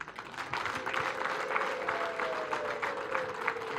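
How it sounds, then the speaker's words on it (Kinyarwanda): A crowd claps steadily throughout, dense and sustained, with a faint voice or tone running underneath, at a celebratory gathering honouring Neo Bosco with Nyambo cows. "Amashyi n'impundu by'inka nyamo."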